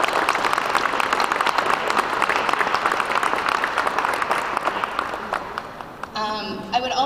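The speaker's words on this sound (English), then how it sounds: "I just think they all deserve such a round of applause for the great work that we have ahead of us" Festival launch audience in Toronto applauds in a loud, sustained wave of clapping that tapers off near the end, with a voice starting to talk as it fades.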